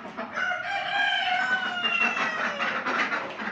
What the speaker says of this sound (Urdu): اور یہ مرغا ہے ایک اندر